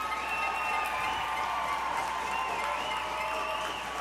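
A hockey arena crowd at a Port Huron Prowlers game cheering and applauding, a dense, sustained roar of clapping and shouting at steady loudness throughout.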